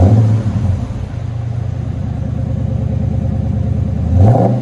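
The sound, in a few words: 2013 Chrysler 300C 5.7L HEMI exhaust with Magnaflow Magnapacks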